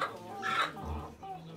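A chicken clucks close by in a few short bursts, with faint background noise around it, at a chicken and rooster auction in Ankara.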